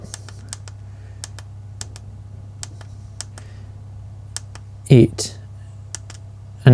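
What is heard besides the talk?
pressing buttons on Hcalory diesel heater controller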